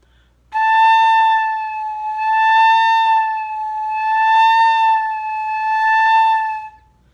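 A beginner flute sustains one clear tone and slides its pitch slowly up and down in a siren-like sweep for about six seconds. It is loud, close and solo, with gentle swells in volume and no speech.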